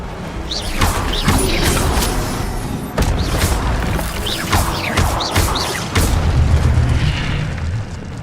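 A fire spell is cast in Hogwarts Legacy, heard as a string of loud booming bursts and whooshing crackles against a busy, noisy game soundscape, with several heavy thumps spread over the stretch.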